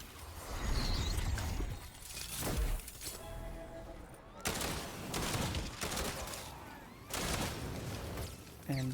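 Repeated bursts of Primal Pistol fire in Fortnite Save the World, sharp clusters of gunshots coming in several close groups through a busy game soundscape with effects and faint voices.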